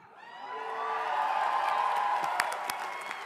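A commencement crowd at Hartwick cheers and whoops, the noise swelling over the first second, then holding steady with scattered claps and shouts.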